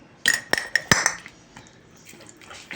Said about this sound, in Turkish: Karıştırıyoruz.